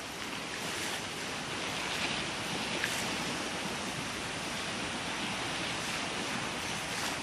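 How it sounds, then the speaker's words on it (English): Choppy sea water churns against Changi Beach in a continuous, fairly faint roar of surf and wash, with some wind noise mixed in and no clear individual wave breaks. "the water is really choppy"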